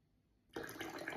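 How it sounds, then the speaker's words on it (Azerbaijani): Cold water poured onto a teaspoon of baking soda, a steady splashing pour that starts abruptly after a short near-silence and continues, close and moderately loud. "Bunun üstünə də qəşəngcənə soyuq su əlavə eləyəcəm."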